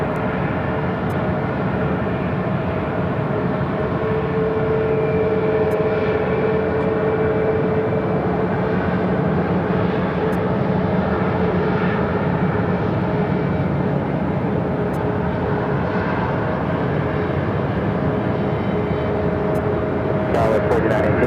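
An airliner takes off at Phoenix airport with a continuous, loud, broad jet roar holding steady throughout, under occasional faint background voices.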